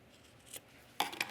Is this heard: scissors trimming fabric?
yes